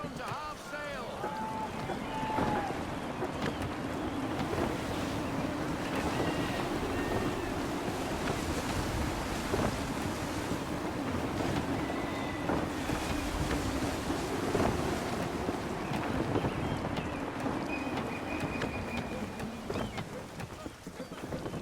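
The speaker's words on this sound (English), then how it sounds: "Gusty winds can be difficult to manage." Steady rush of gusty wind and ocean surf around a sailing ship at sea in Assassin's Creed 3, a continuous windy wash of waves and creaking hull with voices speaking over it throughout.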